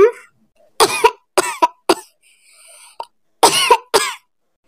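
A cartoon child coughs in a string of sharp, loud bursts, two and three at a time, separated by short silences and a faint breathy sound.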